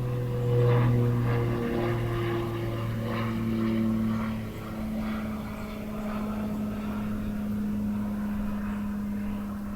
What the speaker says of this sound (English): So wait for the plane to go over.